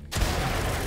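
A single blunderbuss blast in the survival game 7 Days to Die, a sudden loud boom after a brief silence that rolls into a dense, sustained rumble.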